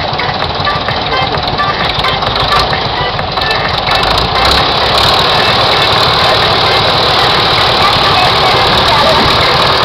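A 1962 three-cylinder, 40-horsepower tractor engine runs at a threshing festival, a loud, continuous chugging drone close by, with voices talking over it.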